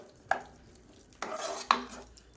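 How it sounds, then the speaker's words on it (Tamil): Pongal mixture with ghee and oil stirred in a pot, three separate scraping strokes of a spoon against the vessel, close and fairly quiet, with no voices. "எல்லாத்தையும் நல்லா மிக்ஸ் பண்ணி விட்டுக்கலாம்."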